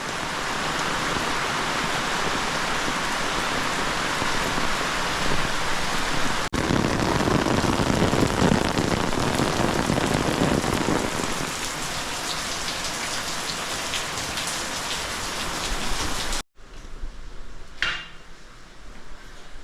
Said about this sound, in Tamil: சத்தியமாக மழை கொஞ்சம் கூட கை கொடுக்க மாட்டேங்குது